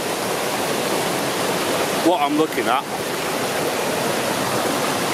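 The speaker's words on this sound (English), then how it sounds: "we've got water just lapping over this rock here with all the moss and stuff" Water laps and flows steadily over a mossy rock at Lumb Hole Falls, a constant close rushing wash with someone speaking briefly over it midway.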